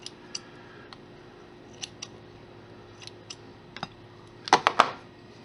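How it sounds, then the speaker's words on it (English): Scissors trim polymer clay: a few faint, scattered clicks, then a quick cluster of three or four sharp, close snips near the end. "just trim it with a pair of scissors"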